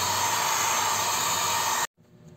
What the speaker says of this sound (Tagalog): using hair blower.